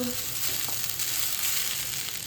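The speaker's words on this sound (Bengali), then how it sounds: "এবার আমি এর মধ্যে ঝরিয়ে রাখা চাউমিনটা দিয়ে দিলাম" Chowmein frying in a pan makes a steady, moderately loud hiss that holds evenly throughout with no clear breaks.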